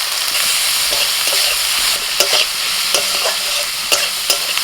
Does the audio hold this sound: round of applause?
no